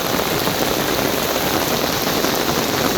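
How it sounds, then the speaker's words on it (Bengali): Heavy morning rain pours down in a dense, steady hiss on surfaces all around, constant and close, with no voices. "বৃষ্টি"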